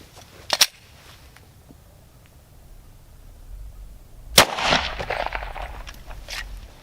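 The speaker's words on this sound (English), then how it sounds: "we're going to be shooting 40 caliber FMJ ammo. It's a Glock 22" A Glock 22 duty-sized pistol fires .40 caliber FMJ rounds: two sharp, loud shots several seconds apart, the second followed by a lingering rumbling tail, with no voices.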